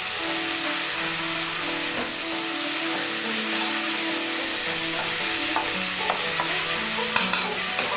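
Ground beef and onions sizzle and fry steadily in a pot while a utensil stirs and scrapes through them, close and continuous, with no talking.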